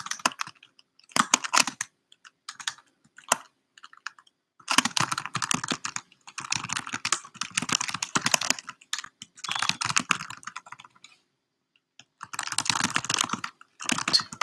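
Computer keyboard typing in irregular bursts of quick clicks, close and fairly loud, with short pauses between runs of keystrokes and no talking.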